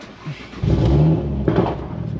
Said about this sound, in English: really try and get across how loud this exhaust is